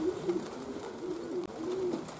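Racing pigeons coo at their loft on a rainy morning, giving a steady series of soft, low, rolling coos that repeat through the moment over a faint background hush.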